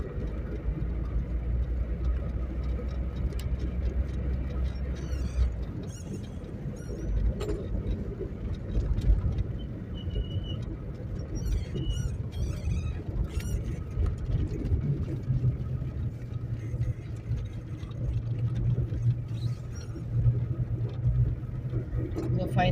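A car travels a winding serpentine mountain road past a valley village, its engine rumble and road noise steady throughout, with people talking over it inside the vehicle.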